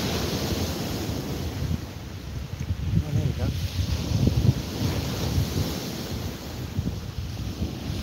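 Sea waves wash onto a beach with steady wind buffeting the microphone, a continuous low roar of surf throughout, with a person speaking briefly over it.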